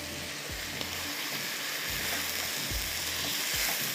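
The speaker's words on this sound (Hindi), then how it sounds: "इसको अच्छी तरह से आपने प्याज के साथ पहले फ्राई करना है" Shrimp fry with onions in a pan for a dry capsicum shrimp dish, making a steady, bright sizzle close up with a few soft stirring knocks and no talking.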